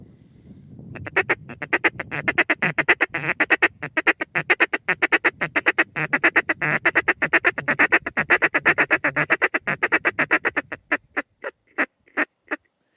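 A duck call blown in a steady series of short, crisp ticks imitating the feeding chatter of a dabbling duck, delivered rapidly and evenly for about ten seconds, then slowing to a few spaced clicks at the end.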